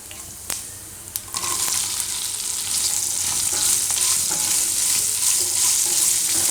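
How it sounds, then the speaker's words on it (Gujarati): Green chillies fry in hot oil with kalonji and hing, producing a loud, hissing sizzle that swells after a couple of sharp clinks from the pan and then holds steady and close until the end. "તો મરચાંને થોડીક વાર તેલમાં ફેરવશું આ રીતે"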